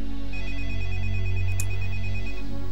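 A telephone bell rings steadily and loudly for a few seconds in a drama scene, its continuous trill sounding over a low hum with no talking.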